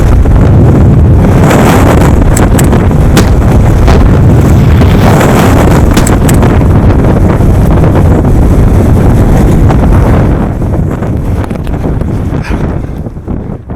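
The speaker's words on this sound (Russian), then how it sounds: "Порыв ветра, как пушинку, перевернул меня вместе с рюкзаком через голову на ту сторону." Strong winter wind gusts on a ridge of Mount Elbrus, a loud, continuous roaring buffet battering the microphone with constant rumble and flutter, easing slightly toward the end.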